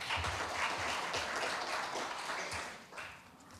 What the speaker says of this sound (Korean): 발표에 앞서 큰 박수 부탁드리겠습니다.